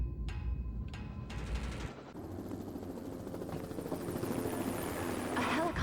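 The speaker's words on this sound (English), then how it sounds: "A helicopter, be careful." Helicopter in the video game EOE: Eve of Extinction, a loud continuous rotor thrum that holds steady and swells slightly toward the end, with a voice speaking over it at the start.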